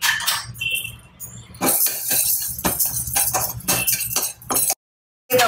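Moong dal being stirred and roasted in a pan: repeated metallic clinks and scrapes of a spoon against the pan in an irregular rhythm, close and fairly loud, ending in a brief silence.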